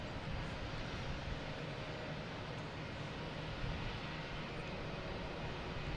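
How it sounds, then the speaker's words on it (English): A JetBlue airliner on approach to Boston Logan Airport, a steady broad distant engine roar that holds evenly throughout with no talking. "Let's get this JetBlue here coming in."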